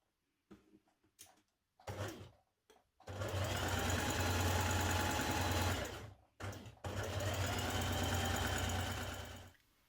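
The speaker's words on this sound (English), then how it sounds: "Do a line of ease stitching at the top of each sleeve between your circles." A sewing machine runs a line of ease stitching along the top of a sweater sleeve, starting with a few short taps and clicks, then stitching in two long, even, rattling runs separated by a brief pause, close and without talk.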